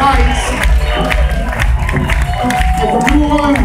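Loud live crowd applause and cheering at a jazz-funk concert at SFJAZZ, a dense, steady roar of clapping with whoops and shouts for the monitor sound engineer.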